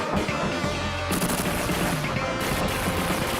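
Rapid gunfire from a retro arcade shooting game plays continuously and loudly, dense and unbroken with a brief shift partway through, during a live retrogaming marathon stream.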